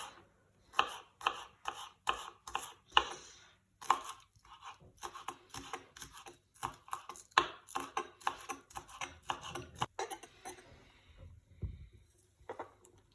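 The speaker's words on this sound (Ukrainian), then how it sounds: "Зараз будемо нарізати зелену цибульку" A knife chops green onions on a cutting board in quick rhythmic bursts of sharp taps, close and clear, with short pauses between runs of cuts.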